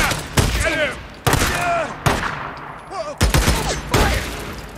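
Gunfire in the video game Days Gone: repeated bursts of fusillade-style shots across the clip, loud and close, with shouting voices from the in-game fight mixed in.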